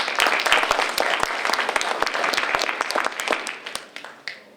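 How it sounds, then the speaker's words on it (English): An audience at a forum for chairman candidates breaks into brisk applause, with dense crisp hand claps that stay strong and then thin out toward the end. "If we could give them a round of applause."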